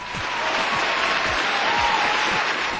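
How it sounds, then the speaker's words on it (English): A steady wash of applause from a crowd claps on without pause, dense and moderately loud throughout. "let's give a round of applause for the obvious genius"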